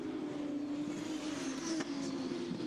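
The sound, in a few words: Formula 2 race cars on track during broadcast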